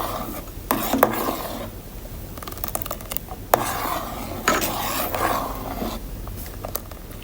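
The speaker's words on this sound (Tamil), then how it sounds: "சவ்வரிசியை போட்டு நல்லா கிண்டுங்க." A spoon scrapes and rubs against the pot as sago is stirred into boiling milk for payasam, in irregular repeated strokes with small clinks, close by and moderately loud with no voices.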